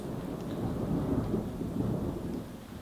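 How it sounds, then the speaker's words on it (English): A low rumble of thunder rolls steadily for a few seconds, broad and fairly loud, like distant thunder heard from indoors, with no talking over it. "Did you hear that? It thundered."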